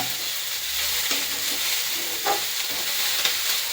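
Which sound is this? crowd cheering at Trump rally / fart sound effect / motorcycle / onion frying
onion frying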